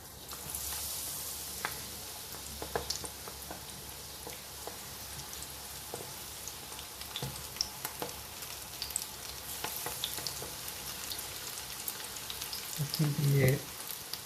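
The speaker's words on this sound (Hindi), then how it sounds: "तो चलिए हम इसको डालते हैं चिलीज़ को आराम आराम से ऑयल के अंदर।" Chillies sizzling and frying steadily in hot oil for pakora, a dense crackling hiss with scattered pops and a brief louder burst of stirring or splashing near the end.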